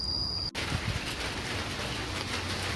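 Steady rain falls on a garden shortly after pesticide spraying, a dense, loud hiss of drops that continues throughout after a brief break near the start.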